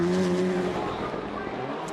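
Rally car at a Global Rallycross Championship race in Charlotte, 2013, engine droning steadily at mid distance with a hint of tyre scrub, no voices.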